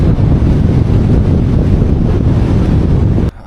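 Strong wind on Xinjiang's Highway 314 roars and buffets the microphone loudly and without a break for over three seconds, a dense low rumble that cuts off abruptly near the end.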